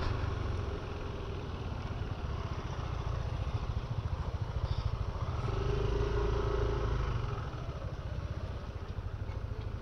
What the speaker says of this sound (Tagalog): Ito yung motor niya,